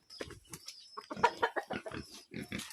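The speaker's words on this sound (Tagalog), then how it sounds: "ngayon magpapakain tayo ng baboy" Pigs being fed on a farm in Antipolo grunt and squeal close by in rapid, overlapping bursts, with chickens clucking mixed in among the animal calls.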